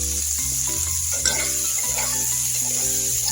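Spices with turmeric frying in oil in a pan, a steady, even sizzle with a few soft stirring sounds mixed in, no one speaking.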